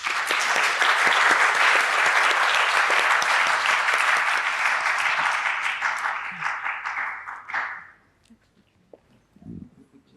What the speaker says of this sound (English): I'd like the audience to join me in giving them a round of applause